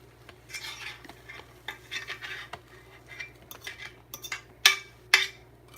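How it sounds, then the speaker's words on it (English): Metal utensil scraping cooked eggs from a frying pan onto a plate, a series of soft irregular scrapes and clinks building to two sharp, louder metallic scrapes near the end, close up with no talking. "Trying to angle this so that way I can just scrape this shit all on the plate"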